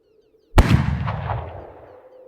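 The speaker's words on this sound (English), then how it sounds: "I'm woken by a gunshot." A single sharp gunshot cracks out of near silence and rolls into a long, booming tail that slowly fades, loud and close with no voices.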